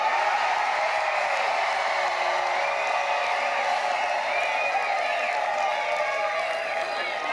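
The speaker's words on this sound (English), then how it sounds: "Why all the cheering?" A large crowd cheers and claps continuously at a Democratic election night victory rally, the noisy wash of voices and applause staying loud and even from start to finish.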